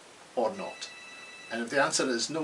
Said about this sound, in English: You can hear the phone in the background.